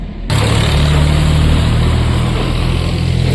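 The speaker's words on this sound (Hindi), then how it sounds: "आज ट्रैक्टर भी निकलेगा यहाँ से" A tractor engine idles and runs close by with a steady, loud, low droning hum that kicks in suddenly and holds unchanged.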